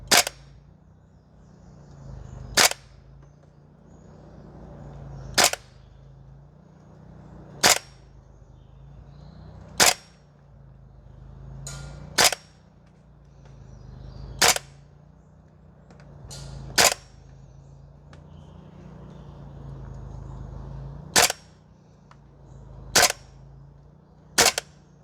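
A Guns Modify SCAR L MWS gas blowback airsoft rifle fires single shots on a range, about ten sharp cracks spaced a couple of seconds apart, each with a brief echo, loud and close over a low background hum.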